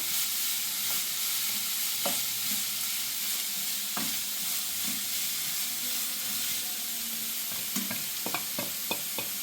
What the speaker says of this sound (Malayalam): ഇനി നന്നായി ഇളക്കി കൊടുക്കണം